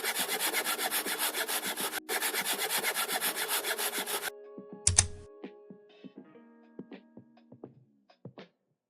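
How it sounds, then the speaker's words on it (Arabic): Steady back-and-forth strokes of a hand saw cutting through plastic pipe, fast and rhythmic, then stopping; a few loose knocks and clatters follow. "واقطع باستخدام صفيحة المنشار."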